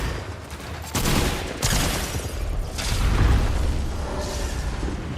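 In Fortnite, a pump shotgun fires heavy, booming blasts at close range. Several loud shots come in irregular succession over game ambience.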